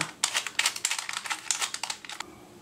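Plastic clicks and rattles of a numbered 3x3 Sudoku Rubik's cube being scrambled by hand, a close, rapid run of irregular turning clicks with no talk.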